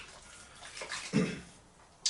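Water splashes briefly into the compost of a potted rare houseplant, a soft pour that swells to a short gush before fading, with no talking.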